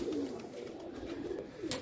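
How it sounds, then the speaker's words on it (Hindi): Pigeon cooing close by in a loft, a soft throaty murmur repeating through the short moment, fairly quiet. "ये कबूतर है जी हमारा"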